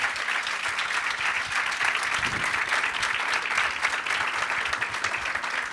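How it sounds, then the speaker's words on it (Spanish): Audience applause at the close of a book presentation for Enrique Krauze's 'Spinoza en el Parque México': dense, continuous clapping from a sizable crowd, loud and even throughout with no talk over it. "Un gran aplauso."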